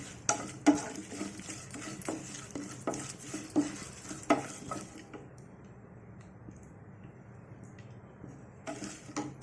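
Peanuts and cashews fry in a pan for a banana flower curry with asafoetida, curry leaves and green chilies, as a utensil stirs and clinks against the pan over a soft sizzle, then the stirring pauses and the sizzle quietens before resuming.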